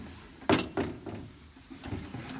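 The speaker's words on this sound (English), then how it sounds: "So we're gonna take out one of our drawers." Wooden dresser drawer, early 1900s with dovetailed joints, pulled out during furniture painting: a sharp sliding scrape and knock near 0.5 s, followed by softer rubbing thuds and a couple of later clicks, close and moderately loud.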